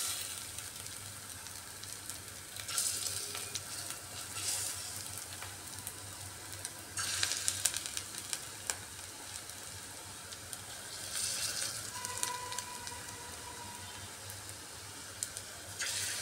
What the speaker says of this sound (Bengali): এবার ম্যারিনেট করে রাখা মাছগুলো এক এক করে আমি ভেজে নেব।